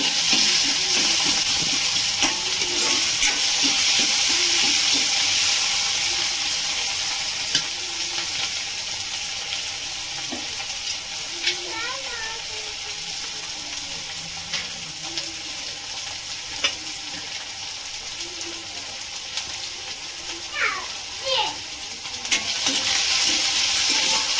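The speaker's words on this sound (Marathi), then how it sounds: "टोमॅटो आपला 2 मिनिटं शिजायला पाहिजे" Tomatoes sizzle and fry in a hot pan as part of a brinjal and green pavta bean curry, a steady close crackle with occasional stirring scrapes and no voices.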